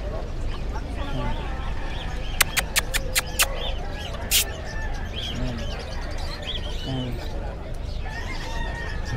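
Chickens cluck and call intermittently at the Bocaue pet market, including Brahma chickens, amid bustling crowd noise and someone talking, with a burst of sharp clicks in between.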